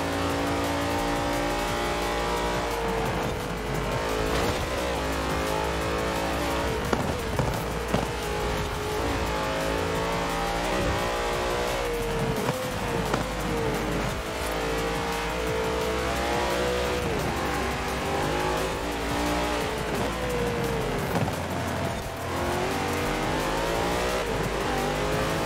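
A racing car's engine roars and revs continuously through gear changes in Forza Horizon 4, loud and steady with occasional tire squeal, no talking.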